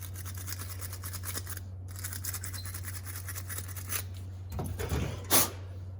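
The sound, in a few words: wiping sealer off an LS ignition coil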